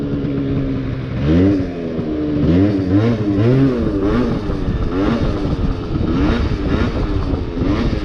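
Yamaha Zuma scooter ridden in a wheelie, its small engine revving loud and close in rising and falling surges, with a rattly motor drone between throttle blips and no talking.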